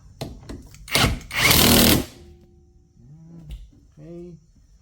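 An impact wrench tightening a 19mm bolt on a car, a few short rattling bursts followed by one longer, loud hammering run, then quiet as a person begins talking.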